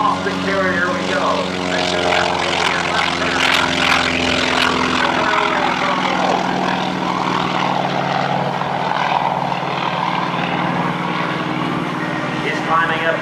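A propeller warplane with a big three-bladed prop and a 1,425-horsepower engine roars loudly and steadily during a short takeoff run, heard at an air base open house with a commentator talking over it.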